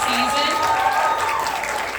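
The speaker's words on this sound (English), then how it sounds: "If we could get a round of applause for all of our partners this season" An audience at a youth theatre cabaret applauds the season's community partners, dense clapping filling the room with a voice or tones riding over it.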